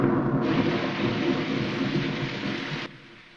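Film soundtrack of a thunderstorm from Young Frankenstein, a steady loud wash of rain with rolling thunder that cuts off abruptly near the end.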